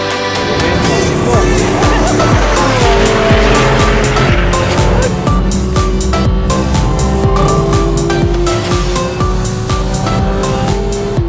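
A Porsche GT3 engine screams up toward 9000 rpm on a race track, loud and continuous, with repeated rising sweeps through the gears and some tire squeal.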